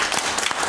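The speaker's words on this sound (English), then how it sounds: "Give him one more hand clap" Brief burst of hand clapping from a church congregation during a worship service, a few quick claps blended into a short wash of sound.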